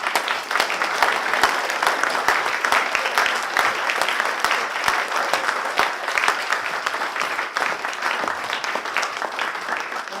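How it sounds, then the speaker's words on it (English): Sustained applause from a school audience at an English declamation prize event, dense steady clapping filling the whole stretch without talk. "So can we have another round of applause for the boys?"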